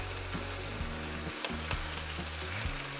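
Pork chops browning in olive oil in a non-stick frying pan, a steady close sizzle and crackle of hot fat with no voices over it.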